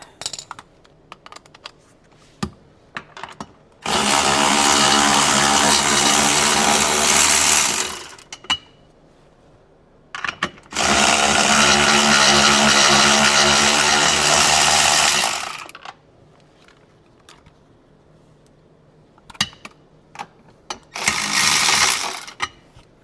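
A wrench working the IBR actuator off a 2021 Sea-Doo GTI 170 SE runs in three loud, steady mechanical bursts: two long runs of several seconds each, then a shorter one near the end. No voices are heard.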